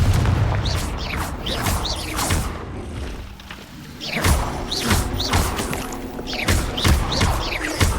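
Repeated Confringo fire-spell explosions in the video game Hogwarts Legacy, a steady run of heavy thumps and booming bursts with whooshing tails, loud and close, several blasts in quick succession.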